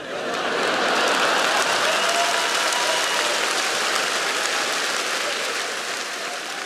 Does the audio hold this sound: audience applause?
yes